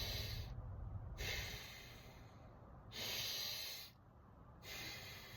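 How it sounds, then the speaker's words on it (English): Slow, deep breaths taken in and let out during a guided breathing exercise. The breathing is close and airy and comes in long, alternating cycles with short pauses, and nobody speaks. "we're going to breathe in"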